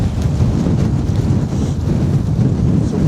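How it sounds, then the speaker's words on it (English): Strong gusting wind on open moorland at Kinder Scout, a loud continuous roar buffeting the microphone with no break. "that wind's definitely picking up now"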